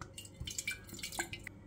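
Water poured into a glass jar while preparing Greek-style pickled cuttlefish, heard as faint, close dripping and trickling splashes with small glassy plinks, no voices.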